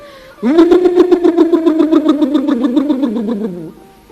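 A man backstage at a 1984 stage show at Lok Virsa imitates an airplane engine with his voice, a loud sustained droning hum that starts abruptly, wavers rhythmically for about three seconds, then fades out.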